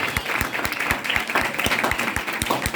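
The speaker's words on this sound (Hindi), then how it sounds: "जोरदार तालियां बजाओ, जोरदार तालियां बजाओ।" Lively applause from a church congregation, with dense clapping and a few sharper rhythmic claps standing out, continuous and fairly loud throughout.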